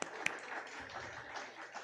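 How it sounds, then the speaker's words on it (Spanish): Audience applause at a church gathering after a birthday greeting, soft scattered clapping from a crowd, faint and fairly distant, lasting under two seconds. "Un aplauso."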